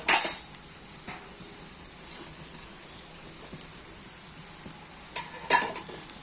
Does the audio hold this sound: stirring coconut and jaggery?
yes